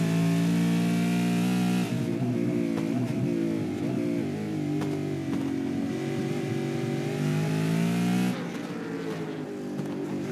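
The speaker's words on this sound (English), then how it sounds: "Great to see these cars in the street circuit." Supercars V8 race cars roar loudly along a street circuit in New Zealand, several engines overlapping in a continuous close pass with revving and gear changes, a brief quieter tail at the end.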